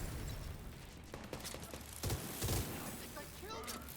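Minigun fire in The Division 2, a dense mechanical rattle of bursts with sharper cracks around the middle, continuing steadily under faint game sounds.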